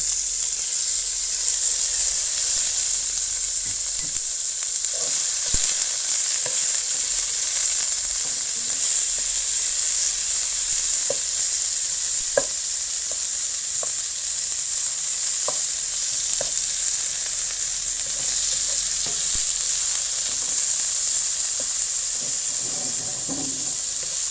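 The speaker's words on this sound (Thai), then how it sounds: "เอากระเทียมเอาน้ำมันลงไปผัดหอมเล้วเนาะ แล้วก็สิใส่หมูนะจ๊ะ ใส่หมูลงไปเลย" Pork stir-frying with garlic in hot oil for a pea and pork dish, a loud continuous hiss of sizzling with occasional clinks and scrapes from stirring in the pan.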